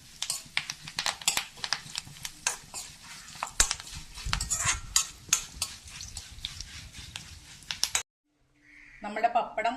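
A spoon or spatula stirs and scrapes through crisp papadam and curry leaves in a pan, giving a busy run of quick clinks and rustling scrapes, before a short silence and a few more faint scrapes.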